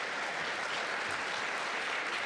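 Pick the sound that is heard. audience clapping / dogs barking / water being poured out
audience clapping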